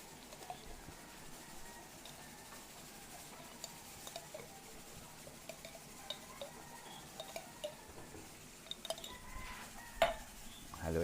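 Utensil stirring a sautéed Filipino dish with shrimp paste in a pan, soft scraping and light clinks over a faint sizzle, with a louder knock near the end.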